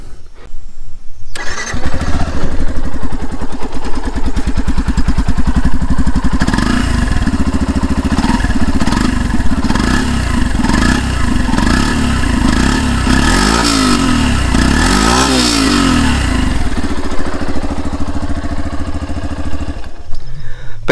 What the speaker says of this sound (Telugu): ఎగ్జాస్ట్ నోట్ వినిపిస్తాను.